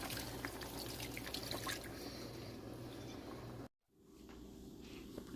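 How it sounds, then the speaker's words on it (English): Water trickles and splashes into a pot in a steady pour, then cuts off abruptly near the end, leaving quiet room sound. "I'm going to add some water. I'll go in with some water."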